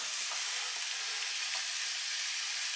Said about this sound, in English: enough to get it sizzling as soon as it drops in the pan